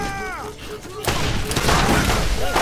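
Borderlands gunfire and explosions crash out as a dense, loud burst of shots and booms, with synthetic tones and game sounds before it.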